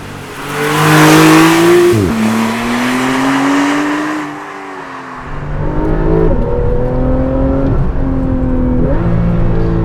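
A Porsche 911 Carrera GTS engine revs and idles loudly up close as the car creeps slowly over a speed bump, the engine note rising and falling in several swells.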